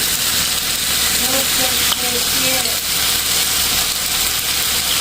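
Steady broadband sizzle of chicken frying in a pan for adobo, loud and continuous throughout, with faint background voices and a brief clink near the middle.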